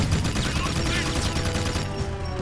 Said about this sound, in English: I need to get them here, but I can't stop shooting